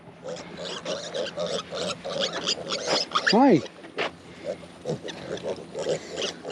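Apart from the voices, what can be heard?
piglets oinking in their pen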